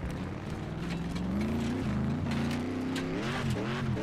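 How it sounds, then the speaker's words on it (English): A deep, throaty American car engine in the PC racing game Next Car Game rumbles steadily and revs rise and fall, loud and close, with no talking. "Listen to that American engine. Just sounds like it means business, doesn't it?"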